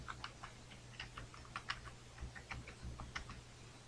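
A password is typed on a computer keyboard in quick, uneven clicks and taps, close and quiet over a low steady hum, with no talking.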